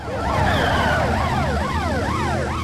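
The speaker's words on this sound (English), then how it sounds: "I can hear 2 sirens." Two wailing video game police car sirens overlap, rising and falling in sweeping cycles, loud and steady over a low engine rumble, with no talking.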